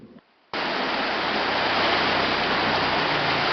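A river rushes past riverside houses, a dense, steady broadband roar of flowing water that starts abruptly after a short quiet moment and continues loud and unbroken.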